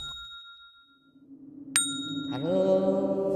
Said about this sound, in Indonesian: Saya tekan bel.